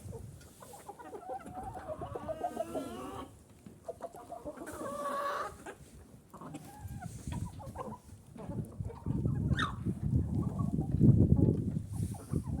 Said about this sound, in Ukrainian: Вон кури вже знов заходять, потім виходять.